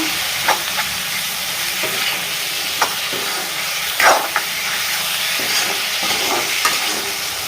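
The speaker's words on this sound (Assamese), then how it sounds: "এতিয়া এইখিনি ধুনীয়াকৈ লৰাইখিনি ভাজি লওঁ" Pork stir-fried in a pan for an otenga and pork curry, a steady sizzle and frying hiss with occasional sharp spatters and stirring scrapes, close and continuous with no talk.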